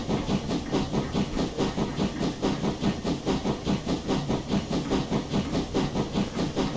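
Steam hiss from a USATC S160 2-8-0 steam locomotive's injectors and brakes in Train Simulator Classic, a loud continuous rushing hiss with a steady rhythmic chuffing pulse throughout.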